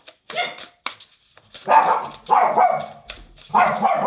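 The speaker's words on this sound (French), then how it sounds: "Pardon, c'est mon chien." A pet dog barks indoors in a handful of sharp, fairly loud, close yaps spread irregularly across a few seconds, with quiet gaps between them.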